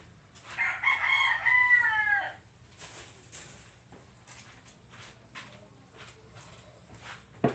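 A rooster crows once, loud and close, followed by quieter scattered clucks and rustling in a calm setting.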